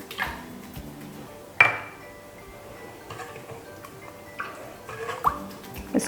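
Egg, yogurt, salt and sugar are stirred in a bowl, making light clinks and scraping taps against the sides with a couple of sharper knocks, close and moderately loud.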